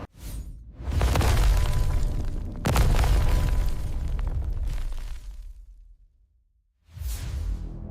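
An air defense missile launches at midnight with a roaring whoosh and booming blast, a second heavy burst follows, the noise fades into silence, then another loud burst arrives near the end.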